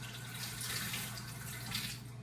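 Running water from a tap streams steadily while a pepper is rinsed out, a continuous close hiss with a low hum beneath it.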